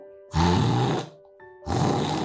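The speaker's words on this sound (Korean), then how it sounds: "코를 심하게 고는 사람" A person snoring heavily, with two loud, rasping snores separated by a short pause, alone and close.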